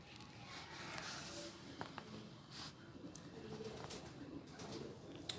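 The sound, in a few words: pigeon cooing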